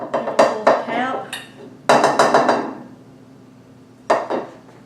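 A metal cake pan for a caramelized apple upside-down cake is tapped to release it: a few quick bright metallic knocks, then a second cluster of taps, then a single final tap, close and clear.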